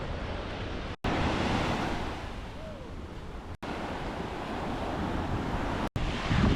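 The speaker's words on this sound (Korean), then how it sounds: "근데 생각보다 파도가 세 오늘" Strong ocean waves break and roll steadily onto a beach in northern Philippines, a loud continuous surf wash with wind rumble, briefly cut by short gaps.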